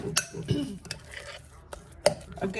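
A spoon stirs thick cornmeal batter for hot water cornbread in a bowl, irregular scraping clinks and knocks against the dish at close range, moderately loud with no talking.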